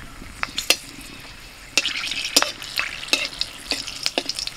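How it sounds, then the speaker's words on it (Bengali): Two dried and two green chillies fry in mustard oil in a kadai, crackling with sharp spitting pops and a busy sizzle as a spoon stirs against the pan. "কড়াতে সর্ষের তেল দিচ্ছি, দুটো শুকনো লঙ্কা দুটো কাঁচা লঙ্কা দিয়ে দিচ্ছি তেলের উপর।"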